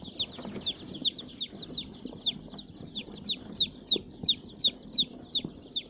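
Layer hens clucking loudly and repeatedly, each sharp, bright cluck landing in a steady rhythm close by, with a low murmur of other birds underneath.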